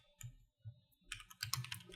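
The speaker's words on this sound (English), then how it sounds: "Other than the typing in the background that is so loud." Computer keyboard typing with uneven bursts of clicky keystrokes, sparse at first then quicker and denser, fairly close with no talking over it.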